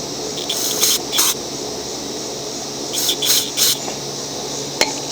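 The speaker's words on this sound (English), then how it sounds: "And then shoot carb spray through it again." Carburetor cleaner is sprayed through the jet of a Craftsman mower carburetor in several short, sharp hissing bursts: two near the start, three in quick succession about midway, and a brief final spurt, all close and fairly loud.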